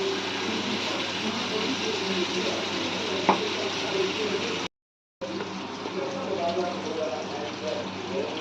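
Paneer frying in a pan for Paneer Manchurian gives a steady, dense sizzle throughout, briefly cut by a moment of silence.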